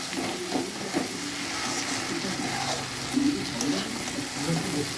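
Spices frying dry in a pan without water give a steady, close sizzle, with soft scraping from stirring and faint voices in the background.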